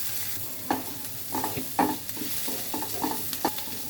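Small shrimp fry in a pan with a steady close-up sizzle, broken by a run of sharp clinks and scrapes as a utensil stirs them every half second or so.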